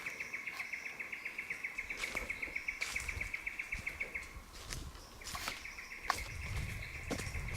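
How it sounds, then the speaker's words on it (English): Bird calling in an Australian rainforest, a fast repeated high chirping trill that runs in long steady bursts, pauses, then resumes, with sharp clicks and faint insect-like buzz around it and no voices. "Some sort of bird making a noise."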